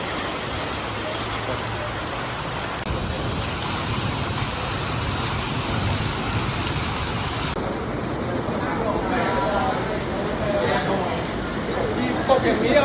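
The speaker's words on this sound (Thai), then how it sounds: "นี้ฝนตกหนักมากนะครับ" Heavy rain pours at a football stadium during a Muangthong versus Nakhon Ratchasima match, a dense, constant roar with someone speaking over it.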